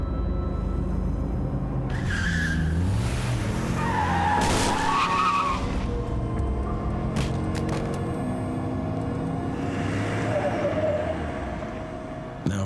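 Car skidding in a movie scene, a loud rising tire squeal and engine roar with a sharp impact around the middle, then rumbling noise and scattered clatter fading toward the end.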